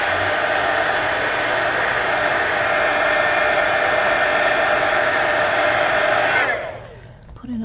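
A hair dryer blows a loud, steady whoosh close by while drying a mixed media collage art card, then switches off near the end and winds down.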